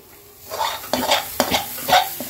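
A spatula scrapes and stirs sweetened green pea filling in a kadai until the water cooks off, giving about four distinct scraping strokes over a soft sizzle, close and fairly loud, with no talking.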